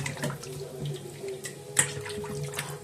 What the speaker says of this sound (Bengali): চলো মাংসটা ধুয়ে নিই, হ্যাঁ, ধুয়ে প্রেসারে বসাবো